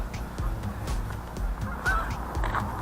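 Ducks on cold water beneath a bridge on a freezing day give repeated honking calls over a steady low rumble of wind and distant traffic.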